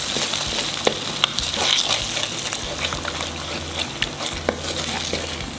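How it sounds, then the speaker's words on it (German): Pineapple fried rice with shrimp frying in a pan, a loud, steady sizzle close up with occasional stirring clicks and scrapes throughout. "Ja, dann zusammen braten, gell?"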